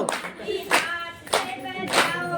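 A group claps hands in unison during a training session, sharp claps landing in a steady rhythm about every half second, with a voice chanting instructions over them.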